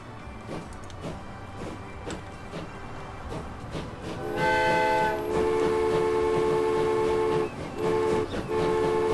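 Train in Transport Fever sent back onto a museum line, a steady rolling rumble with rhythmic clicks, then a loud sustained whistle or horn blast that holds and sounds again, with no talking.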